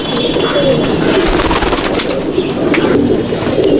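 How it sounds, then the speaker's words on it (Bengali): Male pigeons in a loft coo and rustle loudly up close while they are handled, with brief flutters and a voice speaking partway through. "এসব নর পায়রা"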